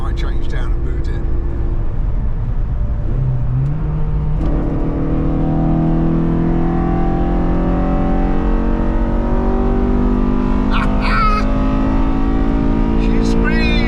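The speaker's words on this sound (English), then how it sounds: "You listen to this induction noise when I change down and boot it." A car engine drops a gear and revs hard to about 8,000 rpm, rising in pitch as it accelerates, loud and close with a steady induction roar throughout.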